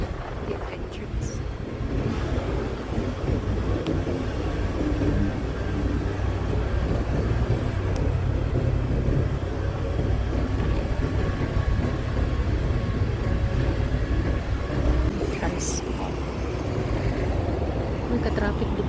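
Road traffic at a mall entrance rumbles on steadily with low engine drone and wind buffeting, while a voice talks over it and a couple of brief sharper sounds cut through.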